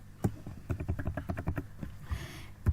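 Someone types code on a computer keyboard, a quick run of crisp individual key clicks at an uneven rhythm, close and fairly quiet, ending with a short pause and one final tap.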